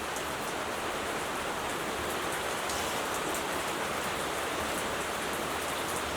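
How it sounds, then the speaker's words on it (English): Heavy rain pours steadily and loudly, a dense continuous hiss of drops drumming on a surface, with no voices. "if you hear the rain, it's raining hard right now"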